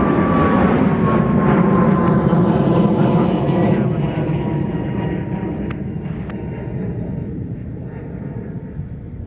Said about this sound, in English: Looks like that Pegasus is coming towards us